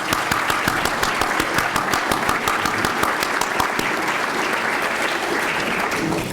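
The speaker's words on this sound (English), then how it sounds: "Please give these community leaders a round of applause." An audience at a regional business alliance's annual membership meeting gives a round of applause, dense and sustained clapping that stays fairly loud and even throughout.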